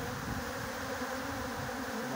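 Honey bees buzz around the entrance of a freshly split hive in hot weather, a steady dense drone of many insects close by with no talk over it.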